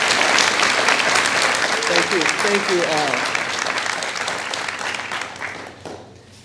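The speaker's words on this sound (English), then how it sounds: "I just would like for the grads to do a round of applause for everybody in this room who has supported you" Graduates and guests clap together in a round of applause at a university commencement ceremony, a dense, loud burst that fades out over several seconds while a voice briefly speaks over it.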